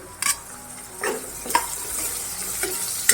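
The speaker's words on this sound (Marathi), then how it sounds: "आता कांदा घालून घेते।" Chopped white onion goes into a pan of hot oil with asafoetida and browned garlic, giving a close, steady sizzle marked by a few scraping stirs and light clinks of a spoon against the pan.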